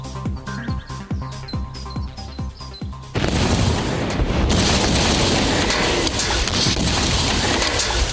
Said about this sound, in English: the rapid generation of hydrogen gas should produce quite an explosion